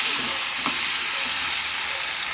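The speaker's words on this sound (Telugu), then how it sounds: "1/10 పచ్చిమిరపకాయల వరకు అవి వేగాక 3 టొమాటోలు కట్ చేసుకొని వేసుకోవాలి." Green chillies and chopped tomatoes frying in oil, a steady close bright sizzle with a brief clatter partway through.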